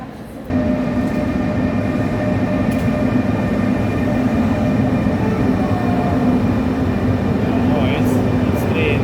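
An international train hums and rumbles steadily at Vienna's main station, a constant loud drone with a tonal whine, while people talk over it and a few brief squeals and clicks sound near the end.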